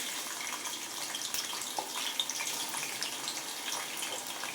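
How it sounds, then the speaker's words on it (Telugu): Ivy gourd (dondakaya) frying in oil gives a constant close crackling sizzle, with scattered pops and spits over a steady hiss. "ఫస్ట్ ఆయిల్ వేసుకోవాలి. ఇప్పుడు మనం దొండకాయలు వేసుకుందాం."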